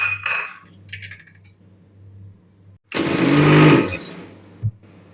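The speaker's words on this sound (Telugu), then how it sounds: "ఇలా వేయించుకున్న నువ్వులు కొబ్బెర పల్లీలు మిక్సీ జార్లో వేసుకొని మెత్తగా మిక్సీ చేసుకోవాలి" A mixer grinder briefly whirs loudly while grinding roasted peanuts, sesame seeds and dry coconut, set against a quiet kitchen with a low hum, faint clinks beforehand and a sharp knock just after it stops.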